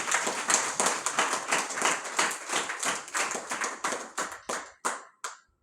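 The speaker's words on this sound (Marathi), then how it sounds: "त्यांच्यासाठी सुद्धा आपण टाळ्या वाजवून करू" An audience at a Mahanubhav religious gathering gives a round of applause, dense rhythmic clapping that thins out into a few scattered final claps before stopping.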